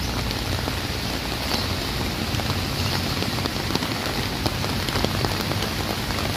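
Steady, heavy rain pattering on a surface beside a large excavation pit near a road, a dense continuous hiss with scattered louder drops, close and loud.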